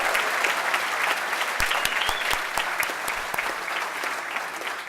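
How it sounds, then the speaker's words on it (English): Audience applause at a student honorees award ceremony, dense steady clapping throughout with a few sharper individual claps standing out, loud and sustained for the whole stretch with no talk over it. "Let's give her a round of applause."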